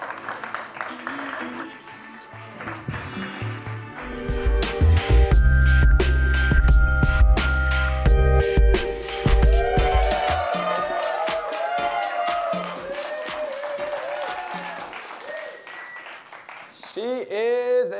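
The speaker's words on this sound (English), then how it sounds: "Let's give a big round of applause." A studio audience at a talk show breaks into loud, sustained applause and cheering for a guest, swelling to a dense peak before tapering off, with a host's voice speaking over the clapping near the end.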